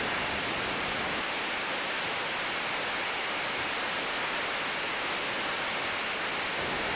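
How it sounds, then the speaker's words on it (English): Mountain waterfall near Sapa, Vietnam, fed by three rushing streams, a constant broadband roar of falling water, loud and unbroken with no other sounds. "The 3 streams following from their source cross hundreds of meters of sloping mountain terrain and join together to pour down the waterfall"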